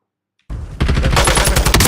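SMG fire in a video game tournament match, a sudden loud burst of rapid close shots starting after a short silence and continuing steadily.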